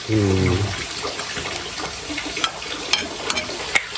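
Fish curry masala with coriander powder frying in a pan, a steady soft sizzle with faint crackles and occasional sharp pops, after a brief low hum at the start.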